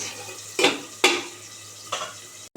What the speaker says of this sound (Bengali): একটু ঢাকা দিয়ে ভাজলে কি ভালো হয় এটা আবার ঢাকা দিয়ে দিচ্ছি